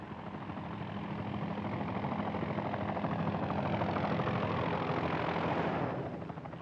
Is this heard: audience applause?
no